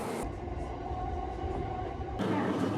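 A train runs along a partly above-ground Tokyo rail line, its steady rumbling and rattling close and continuous throughout, with a brief shift in tone near the end.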